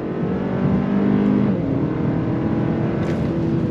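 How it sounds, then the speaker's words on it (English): A 2024 Hyundai Sonata N-Line accelerates hard from a rolling start in third gear. The engine note holds a loud, steady drone that steps up in pitch partway through, with no talking over it. "I'm gonna get into third gear. On throttle, drops down, and we're gone."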